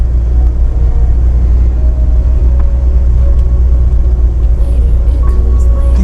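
Car driving on a road in Manchester, Jamaica, heading southeast near Caledonia Road; a steady, loud low engine and tyre rumble runs throughout with no pauses.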